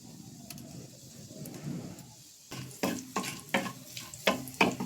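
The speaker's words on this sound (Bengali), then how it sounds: "একটু জিরে ফোড়ন দিলাম" Cumin seeds temper in hot oil for a fish and potato curry, a quiet hiss that builds into a run of sharp, rhythmic spattering crackles in the second half, close by, with no voices.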